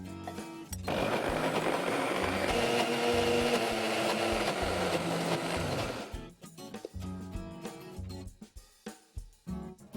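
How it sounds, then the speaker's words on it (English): A kitchen grinder runs loud and steady for about six seconds, crushing cooled soya chunks into a coarse paste for dhaba-style soya chaap, then stops, leaving scattered knocks and clatter. "I'm going to grind this into a coarse paste in the same grinder."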